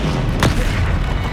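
In the Hogwarts Legacy video game, a Confringo fire spell goes off as a single sharp, loud blast that booms over dense game noise and fades quickly.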